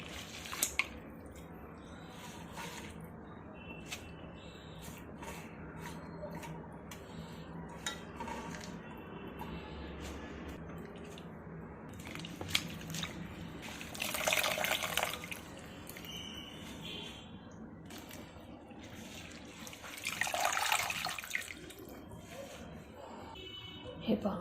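Leafy vegetables are rinsed in a pot of water in a home kitchen, with dishes clinking softly; the dirty water is then poured out in two splashing bursts a few seconds apart.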